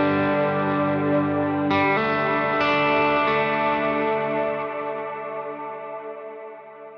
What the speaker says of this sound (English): So I have my clean sound right here.